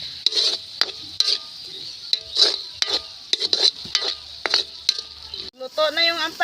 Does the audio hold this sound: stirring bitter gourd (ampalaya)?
yes